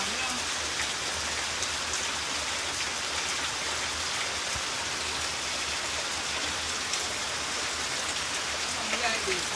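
Rain pours onto young sorrel and other garden plants in rural Jamaica in May, a close, steady hiss of drops striking leaves and soil, with water running and no clear break for nearly ten seconds.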